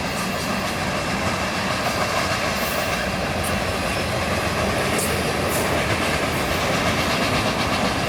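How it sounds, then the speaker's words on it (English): A long train rolls steadily past on the rails in Brighton, Ontario, with continuous clickety-clack and faint wheel squeal, loud and close, with no voices. "one long train. Holy moly."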